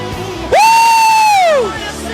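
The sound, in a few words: church congregation shouting and cheering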